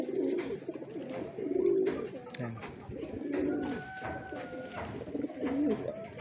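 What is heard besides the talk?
racing pigeons cooing in a loft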